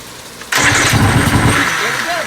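A 1997 Johnson OceanRunner 115 outboard engine fires up abruptly and runs at a loud, rough, steady idle close by, with voices talking over it.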